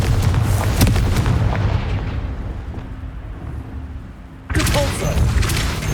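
A Confringo blast spell exploding in the game Hogwarts Legacy, a booming burst fading into a rumbling tail, then a second sharp blast near the end, with voice mixed in.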